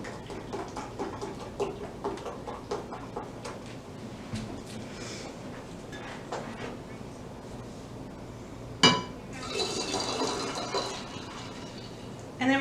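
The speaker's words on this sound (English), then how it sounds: "we're going to do 10 ounces of 7-Up." 7-Up soda poured into a glass for a cranberry mocktail: a sudden splash followed by several seconds of steady fizzing and bubbling, preceded by soft clinks and low background noise.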